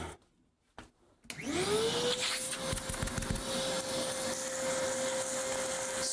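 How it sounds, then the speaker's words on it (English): A vacuum cleaner switches on after a few soft knocks, its motor rising in a whining spin-up before settling into a loud, steady drone with rattling debris. "Satisfying vacuuming"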